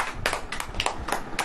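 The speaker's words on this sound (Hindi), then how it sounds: "ताली बजाओ यार।" A congregation at a Hindi sermon breaks into scattered clapping, uneven bursts of hand claps in a reverberant hall, moderately loud, with no talking over it.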